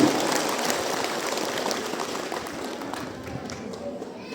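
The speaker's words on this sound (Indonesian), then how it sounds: "Tepuk tangan sekali lagi." Audience clapping at a religious gathering of Nasyiatul Aisyiyah in Kalibening, a broad wash of applause that is strongest at the start and slowly thins out, heard at moderate distance.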